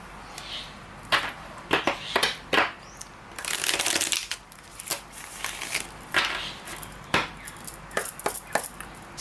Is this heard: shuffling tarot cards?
yes